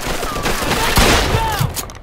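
Gunfire in the Mafia II: Definitive Edition shootout, a dense burst of shots and ricochets with a louder blast near the middle, layered with game music and shouting.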